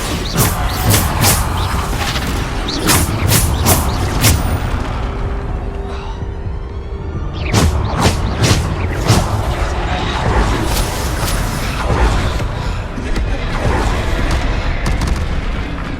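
Bombarda spell explosions in Hogwarts Legacy combat, a dense run of heavy booming blasts and crashes repeating across the whole stretch over a continuous loud game soundscape, with no talking.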